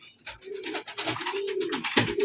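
Pigeons coo steadily at a pigeon sale offering local and foreign breeds, with soft, rolling calls that overlap continuously at moderate distance and no voices in between.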